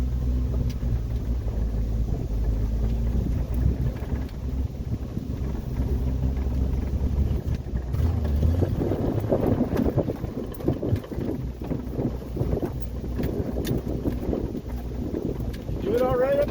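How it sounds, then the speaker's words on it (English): Vehicle engine idling a bit high after a U-joint replacement, a steady low rumble with wind buffeting the microphone, and a person speaking briefly over it. "Still idling a bit high."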